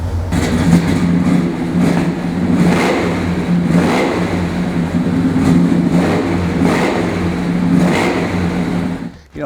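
A deep V8 engine of a 1969 Chevrolet Chevelle SS 396 revs repeatedly in rhythmic surges, loud and close, a throaty rumble rising and falling before cutting off at the end.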